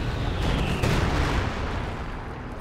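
Bombs and artillery explode nonstop in a strategy video game match, a dense, loud, continuous barrage of overlapping booms and blasts with no pause.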